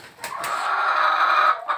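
Laying hens in a small barn clucking, a drawn-out, loud, close cackle with a couple of short sharp clucks at the start and end, no talking.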